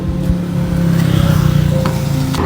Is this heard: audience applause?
no